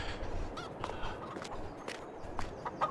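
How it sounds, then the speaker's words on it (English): Chickens in the farming video game Attingham Park give short clucks and squawks over a busy, rumbling ambient background, fairly faint and scattered. "What's that chicken doing? Silly chickens."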